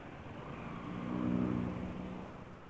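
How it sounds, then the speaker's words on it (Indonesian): Cars and motorbikes crawl along a busy, jammed road, a dull engine rumble swelling as one vehicle passes close and then fading back into steady traffic noise. "Wow, macet sini guys."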